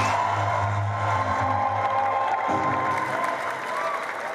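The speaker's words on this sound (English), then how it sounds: "Please keep clapping." A large audience at a wealth summit claps and cheers to welcome a pastor onto the stage, a sustained wash of applause with a steady crowd roar, fairly loud and continuous.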